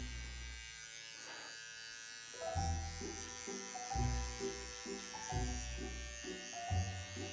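A Gamma Boosted UP electric hair clipper buzzes steadily outdoors while cutting hair, its close hum rising in repeated strokes as the blades pass through.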